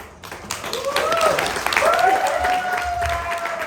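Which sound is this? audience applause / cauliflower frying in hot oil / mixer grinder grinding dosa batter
audience applause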